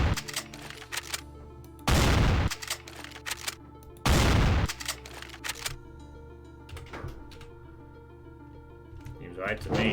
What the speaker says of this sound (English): The firing sound weirdly has a reloading sound after.